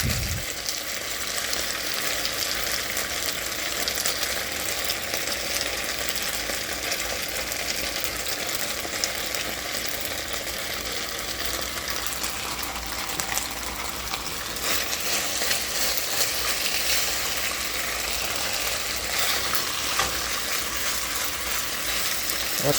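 Onion stir-frying in a hot pan for a pork stir-fry with broccoli and bok choy gives off a loud, steady sizzle that runs unbroken the whole time, with no voices.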